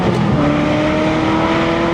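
A Ferrari 348 Spider engine pulls hard under acceleration while driving, giving a loud, steady, close-up motor roar with a sustained tone and no voices.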